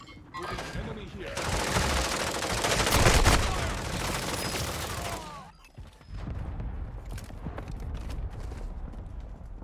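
Gunfire in the battle royale shooter Call of Duty Warzone: dense bursts of shots and crackling fire swell loudly, drop briefly, then continue as scattered shots under game voices.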